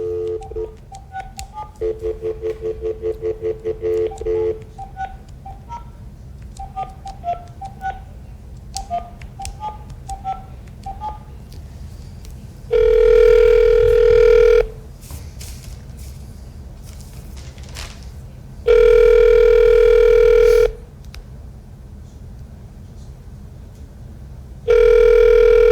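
A telephone is dialed for a live call during election night broadcast coverage: rapid touch-tone beeps come first, then three long, loud rings spaced a few seconds apart, with no talking over them.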